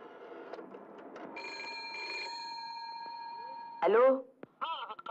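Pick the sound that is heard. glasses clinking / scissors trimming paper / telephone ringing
telephone ringing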